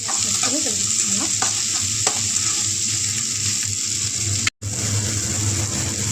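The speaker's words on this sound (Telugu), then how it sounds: "పచ్చిమిర్చి వేసుకొని కలిపిస్తున్నాం." Green chillies are stirred in hot oil in a frying pan, a steady close sizzle with several spoon scrapes through it, cut by one brief gap near the end, with no talking.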